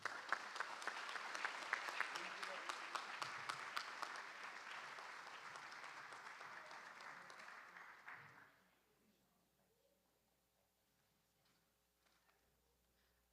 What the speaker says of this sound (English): So if we will please give them another round of applause.